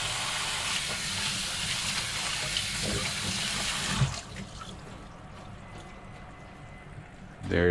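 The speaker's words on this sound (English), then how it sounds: "And wash your hands." A kitchen tap runs steadily as hands are washed, a broad close hiss that stops abruptly midway, leaving quiet room sounds and a brief clatter at the end.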